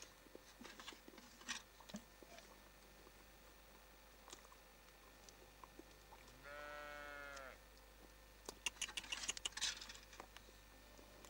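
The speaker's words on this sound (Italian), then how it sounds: "Poi mi sono venute tutte attorno adesso le capre qua." On a mountain slope, a goat gives one clear, wavering bleat mid-way through, while faint ticks, rustles and sharp clicks come and go against a quiet outdoor background.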